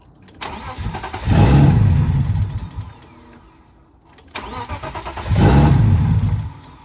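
A car engine cranks and fires up twice, each start followed by a rising rev that swells loud and close before dropping back to a rough idle.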